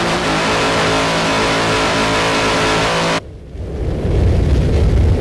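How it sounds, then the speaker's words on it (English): Twin 930 hp Mercruiser inboard engines on a 42-foot offshore racing powerboat roar loudly and steadily, then cut abruptly about three seconds in to quieter rushing wind and water noise that builds again. "Powered by two 930 horsepower Mercruiser inboards"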